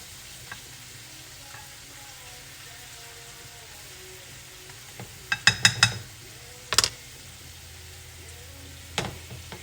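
Pork chops fry in a pan with a soft, steady sizzle, broken midway by a few sharp clicks and clatters and one last tap near the end.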